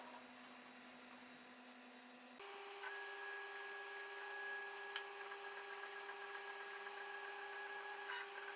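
Laser cutter cutting MDF in a workshop, a steady machine hum with whining tones that shift pitch partway through, plus faint fan noise and an occasional small click, heard alone.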